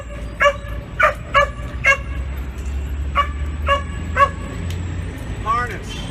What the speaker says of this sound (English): Did you notice the way that dog was barking going down the street?